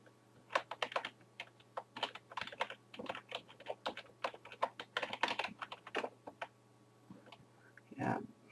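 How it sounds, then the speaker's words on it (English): Quiet, close keystrokes on a computer keyboard clatter in uneven bursts as a username and password are entered, with short pauses between runs and a heavier thump near the end. "Now let's just simply type in my username and my password"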